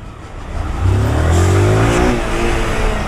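A yellow 2022 Honda Titan motorcycle pulling away, its single-cylinder engine revving up close and loud, with the pitch climbing as it accelerates.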